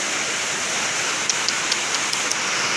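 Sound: heavy rain

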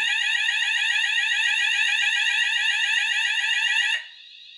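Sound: Notifier/Hochiki ESP fire alarm sounding after detector spray test

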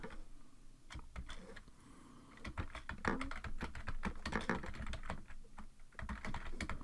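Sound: typing on a computer keyboard

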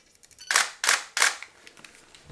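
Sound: camera shutter release

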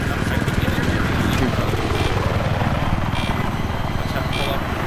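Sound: helicopter in video game Battlefield 3

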